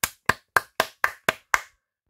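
Hands clapping seven times in an even, quick rhythm, close and crisp, then stopping, with nothing else around it.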